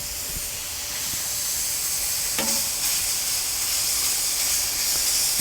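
Pork tenderloin pieces sizzle on a hot plancha over a kettle grill, a steady loud frying hiss with a few faint clinks, and no voices.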